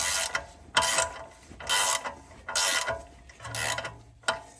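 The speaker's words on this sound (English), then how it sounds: "Just tightening these Torx back up." A ratchet tightens Torx bolts on the front suspension of a Range Rover L322 4.4 TDV8, clicking in repeated short bursts, each a quick run of pawl clicks followed by a brief pause.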